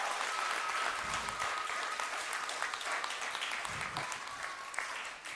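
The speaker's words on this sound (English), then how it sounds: "Parents, give them a round of applause." Parents in the audience applaud a graduating class at an Erie Police Athletic League graduation, steady mid-distance clapping sustained throughout without talk.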